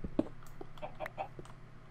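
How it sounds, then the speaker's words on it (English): Chickens in Minecraft give a few short clucks and soft squawks in quick succession, moderately close, with no other sound over them. "Four chickens."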